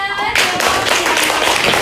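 A classroom claps for group 1 after its presentation: a burst of many hands that starts sharply and keeps up a dense, steady patter at close range for under two seconds, with voices mixed in.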